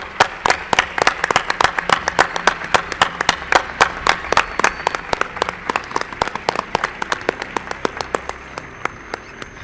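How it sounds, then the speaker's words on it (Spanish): Audience applause at a live show in Mérida, Extremadura: a dense run of sharp hand claps, loud and fairly steady, tapering slightly near the end, with faint crowd murmur beneath. "Yo quiero un aplauso para mi buen amigo"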